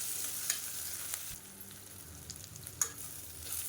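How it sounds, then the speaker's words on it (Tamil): Onions sauté in a pan for chicken varuval, with a quiet hiss and a few soft stirring clicks and scrapes against the pan. "இப்போ வெங்காயம் நல்லா வதங்கிடுச்சு."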